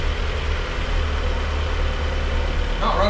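Mazda Miata engine idling right after its first startup, a steady low rumble that stays even and close, with a brief voice near the end.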